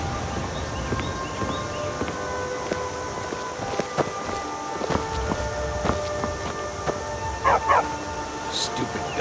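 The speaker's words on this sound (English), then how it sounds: "dog." A dog barking in the Skyrim video game, a short burst of yips near the end over layered game music and ambient tones.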